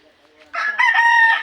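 A backyard rooster crows once, loud and close, the call rising sharply and holding steady to the end after a quiet start.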